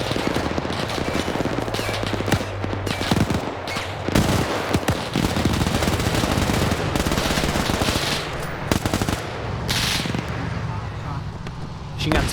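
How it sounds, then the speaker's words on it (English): Rapid bursts of machine gun fire crackle through a WW2 resistance raid in a multiplayer shooter, dense repeated volleys mixed with scattered gunshots over vehicle rumble, with voices talking beneath the steady gunfire. "Machine gun's firing up here."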